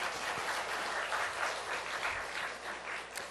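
A church congregation claps in thanks for the praise team after worship, a steady wash of applause that fills the room at moderate volume and eases slightly toward the end.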